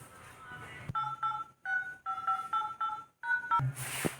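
A phone number is dialed on a keypad, a quick run of about ten sharp two-tone beeps with short gaps, followed by a clunk of handling at the end.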